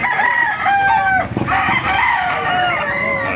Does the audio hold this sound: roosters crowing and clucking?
yes